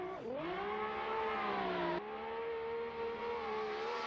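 A Toyota Supra drift car on a qualifying run at Sturup Raceway wails loudly close by. The engine revs drop sharply, then climb and hold high under sustained throttle, with a brief shift partway through and no talk.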